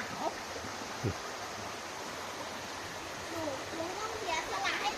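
A waterfall of cold, clear water pours in a constant broad rushing hiss close by, with faint voices briefly audible beneath the steady roar.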